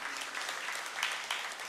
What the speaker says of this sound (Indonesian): Kita berikan tepuk tangan buat Tuhan Yesus yang layak.